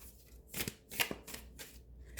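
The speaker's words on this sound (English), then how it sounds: "We have cards snapping out." Tarot cards being shuffled, several quick snapping riffles in separate bursts with short pauses between, close and fairly quiet, with no talking.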